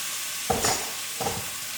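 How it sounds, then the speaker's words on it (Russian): Lentils and garlic fry in a pan, a steady close sizzle with two soft scraping stirs, no talking. "И попытаюсь вот так прямо обжарить линзы на нем."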